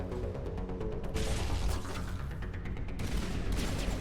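Enemy gunfire in Mass Effect Legendary Edition, steady rattling bursts of shots and mechanical clatter over a loud, continuous combat backdrop, with sharper flurries coming in waves.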